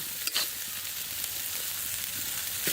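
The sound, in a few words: spices frying in pan with salt and turmeric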